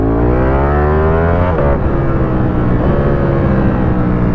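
A loud Ducati Panigale V4 S motorcycle engine revs hard, its pitch climbing and falling in repeated surges, close and continuous with no voices.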